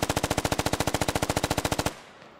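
Machine-gun fire in the military shooter SquadOps: a single sustained burst of about twenty-five rapid, even shots, loud and close, then a sudden cutoff into quiet.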